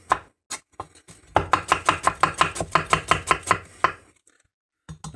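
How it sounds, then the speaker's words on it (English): A knife shreds a cabbage head into thin slices for homemade sauerkraut, giving a quick, even run of about a dozen crisp, close chops, with a few scattered cuts before and after the run. "I just usually shred it with the knife, and you just chop nice thin slices out of your cabbage head"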